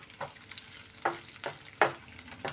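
Dried fish fry in hot oil for a brinjal and tomato curry, a low bubbling sizzle punctuated by four or five distinct stirring scrapes close by.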